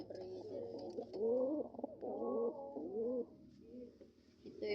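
Breeder pigeons coo in a run of soft, rolling calls close by, several overlapping phrases with brief pauses, over a low steady background hum.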